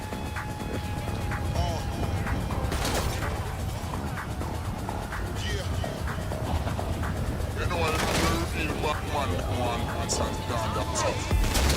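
Gunfire in GTA V Online, scattered bursts of shots under continuous talking, with a denser flurry of shots near the end.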